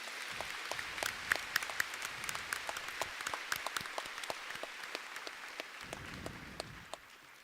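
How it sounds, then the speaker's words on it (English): Applause from an audience at a school Veterans Day ceremony after a keynote address, a steady patter of many hands clapping for several seconds, fairly faint and distant, then tapering off at the end. "So I want to give him a big round of applause"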